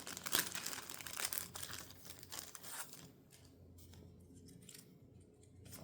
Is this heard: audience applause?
no